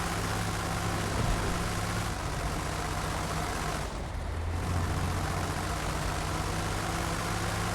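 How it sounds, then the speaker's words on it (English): A big 10-cylinder engine drones steadily as the vehicle rolls along, with a low, continuous hum that dips briefly about halfway through. "we're rolling in this big 10-cylinder"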